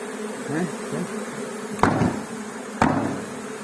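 Honeybees from a swarm hum in a steady, close drone, broken by two sharp knocks.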